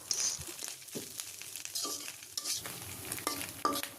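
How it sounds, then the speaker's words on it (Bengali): Fish fries in oil in a wok over medium heat, a soft sizzle broken by stirring scrapes and light utensil clinks, close and fairly quiet with no voices. "চুলার আঁচটাকে মিডিয়ামে করে একটু সময় নিয়ে মাছটাকে ভেজে নিতে হবে লাল"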